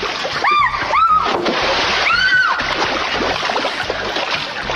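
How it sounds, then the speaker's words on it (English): A reporter tumbles off a wooden plank into water, a broad splashing wash with sloshing water throughout, with a few brief voice sounds on top. "until one of her employees knocked the plank, causing her to fall straight into the water"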